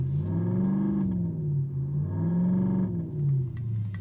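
A loud electronic exhaust system imitating a car engine revving and rumbling, its pitch rising and falling in smooth waves, heard alone with no talk.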